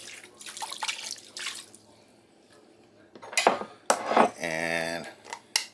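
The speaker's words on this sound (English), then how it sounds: "Then what I'm going to do is add a cup of water to that." A cup of water pours into a crock pot over raw chicken breasts, a splashing gush after clinking kitchen sounds, close and moderately loud, with no talk.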